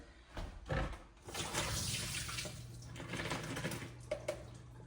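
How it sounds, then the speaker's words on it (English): Water drains off cut potatoes in a home kitchen, a soft splashing gush into the sink with a few clanks of the pot, fairly quiet and without talk. "I'm going to go over here and drain the water off my potatoes."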